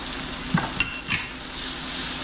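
Flour frying in oil in a pan gives a steady, soft sizzle, with a few quick clinks from stirring near the start.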